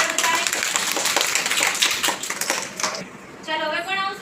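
A group of schoolchildren clapping together in a classroom during a vegetable lesson, several seconds of quick, light, uneven claps, then a short pause before a brief second burst.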